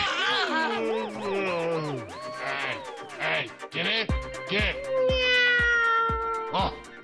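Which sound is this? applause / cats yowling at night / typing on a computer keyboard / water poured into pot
cats yowling at night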